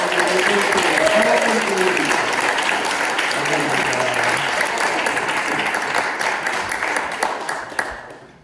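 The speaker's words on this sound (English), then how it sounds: "Give them a round of applause." Theater cabaret audience applauds in a long, sustained wave of dense clapping that stays loud for several seconds before thinning out at the end, with some voices mixed in.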